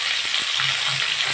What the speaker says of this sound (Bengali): তো ফুলকপিটা লাল লাল করে দেখুন ভাজা হয়ে গেছে।